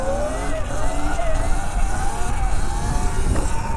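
Electric Sur Ron dirt bike pulling repeated power wheelies, a continuous rising and falling motor whine with wind and tyre rumble, close and fairly loud throughout.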